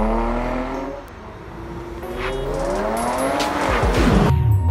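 A 2017 Mercedes-AMG GLC 43 Coupé pulls away hard with a loud engine roar climbing through the gears, its tires squealing and chirping as they spin for grip, close and continuous with no talking.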